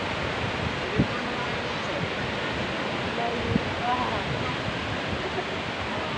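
Strong wind roars across Matabungkay Beach with a storm reported nearby, a dense, steady rush buffeting the microphone, with occasional low thumps and possible surf underneath.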